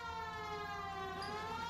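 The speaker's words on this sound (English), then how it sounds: "Turn on the siren and pull her over." A police car siren in a video game wails steadily and fairly quietly in a continuous tone with stacked harmonics, with no talk over it.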